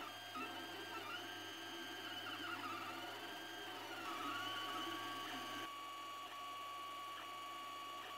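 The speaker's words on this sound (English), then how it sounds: "The printer starts the job as soon as bed and extruder reached their target temperatures." Steady motorized whirring and humming of a Creality Ender 3D printer running a sculpture print, with stepper-motor whines shifting in pitch; no talking.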